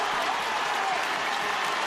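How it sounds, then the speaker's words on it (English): A stadium crowd at a Tyrone v Derry Gaelic football semi-final roars and applauds after a score, a dense, steady wall of cheering and clapping that lasts throughout. "Brian Dooher gets a cheer every time he touches the ball"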